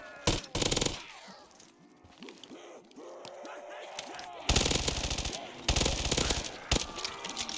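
Rapid automatic gunfire against zombies in a video game, loud broadband bursts at the start and sustained heavy firing in the second half, with scattered clinks and a voice talking between volleys.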